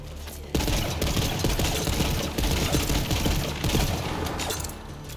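Video game gunfire in sustained bursts of rapid, loud shots packed over game noise, with a brief lull at the start and near the middle.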